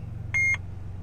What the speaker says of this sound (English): Okay, it beeped, right?